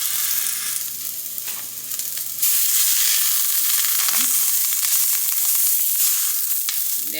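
Cabbage sears in a hot skillet, a steady loud sizzle that swells to full intensity partway through and keeps going, with faint scraping and stirring noises underneath.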